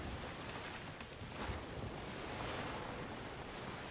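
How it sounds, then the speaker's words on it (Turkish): Ocean waves in the pirate sailing video game Skull and Bones, a continuous broad surging wash of surf with wind noise, steady and moderately loud, with no voices. "Bak yavaştan dalgalar büyümeye başladı şu an."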